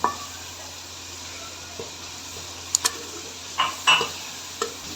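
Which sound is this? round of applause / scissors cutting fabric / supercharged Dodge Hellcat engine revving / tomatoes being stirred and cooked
tomatoes being stirred and cooked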